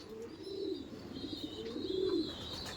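Several racing pigeons coo softly in low, rolling phrases, repeating close by in a loft in Baranagar against a faint, steady background hiss.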